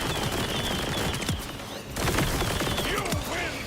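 Rapid gunfire from a weapon in a video game, loud sustained bursts of automatic shots with a short pause near the middle before firing resumes, with occasional game voices underneath.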